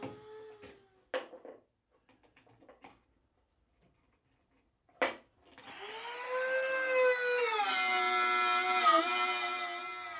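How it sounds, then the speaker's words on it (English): Router cutting slots in a router table top: after a few scattered knocks and handling bumps, the motor spins up into a loud, steady high whine that dips in pitch as the bit bites into the wood. "it's just as easy to peek and see where the router bit is cutting"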